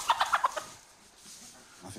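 Hens cluck in a quick run of short, fairly faint calls, then fade into a quiet stretch with soft background noise.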